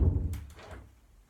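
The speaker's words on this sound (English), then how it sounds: "And close this door." A door swings shut indoors with a single dull thunk, followed by a short fading rattle and room echo.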